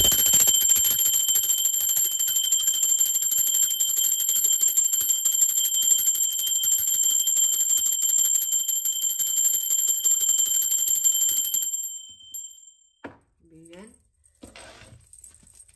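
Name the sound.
bell rung during a tarot reading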